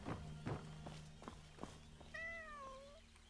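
A cat gives a single, clear, drawn-out meow near the end, preceded by soft thumps and steps in a quiet room.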